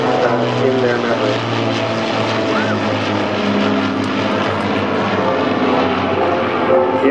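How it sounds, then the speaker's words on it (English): An Avro Lancaster bomber, the Minarski Memorial aircraft flying with a second Lancaster over Southport, drones overhead with a loud, steady multi-engine propeller roar. Faint voices talk underneath throughout. "We call her the Minarski Memorial Lancaster"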